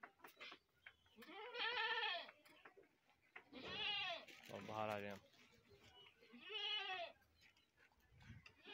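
Goats on a farm bleat in several long, wavering cries spaced a second or two apart, fairly close, with people talking quietly in between.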